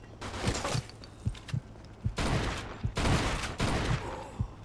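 Automatic gunfire in the video game Mafia 2: rapid shots repeat in a steady rhythm, and dense, loud bursts sweep in and out throughout.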